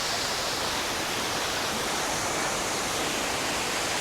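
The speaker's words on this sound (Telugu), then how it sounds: "ఇది వాటర్ ఫాల్." Waterfall in Nuwara Eliya, Sri Lanka, a dense, constant roar of falling water heard close and loud, steady throughout with no voices.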